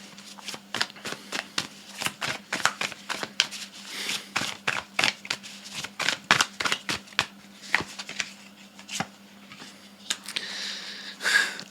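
Tarot cards are shuffled close by for a reading, producing a steady run of crisp riffling snaps and slaps that repeat rhythmically for several seconds, ending in a softer rustle.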